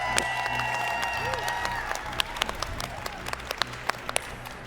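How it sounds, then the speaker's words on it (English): Live podcast audience applauds a guest writer at a storytelling event, a moderate crowd clapping with scattered sharp individual claps and some background murmur and voices, steady throughout. "Let's give a huge round of applause to K Arsenault Rivera."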